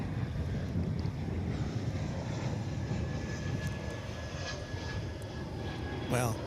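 An American Airlines jet takes off from runway 15 left at Dallas/Fort Worth Airport, its engines making a broad, steady roar at a distance through heavy wind noise, with a faint rising whine near the end.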